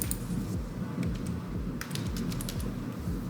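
Steady, rapid typing on a computer keyboard as an answer is entered into a Google Forms quiz, keys clattering continuously and close by with no voices.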